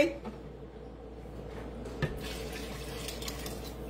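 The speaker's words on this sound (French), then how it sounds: "Là, je vais y mettre 2 litres d'eau." Water pours steadily into a pot of vegetable soup, a soft continuous trickle and splash, faint and close, with a small clunk midway.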